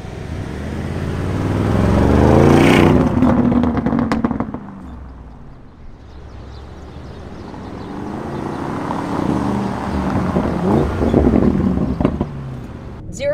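A Mansory-modified Lamborghini Urus SUV accelerates hard with a loud, swelling engine roar that rises, drops back, then surges again, heard up close without talk.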